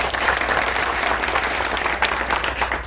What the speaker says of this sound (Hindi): एक बार जोरदार ताली से इनका स्वागत।